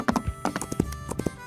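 Horse hooves clip-clop in the video game Wild Horse Islands, a quick run of light, close thuds with a faint whinny-like tone mixed in.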